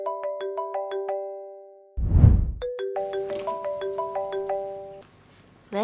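A phone ringtone plays a bright repeating electronic melody of chiming notes at night indoors, interrupted briefly by a dull thump, then resumes for several more bars before stopping.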